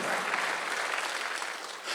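Steady applause from a church congregation at a Sunday worship service, a dense even wash of clapping that holds throughout with a slight swell at the end.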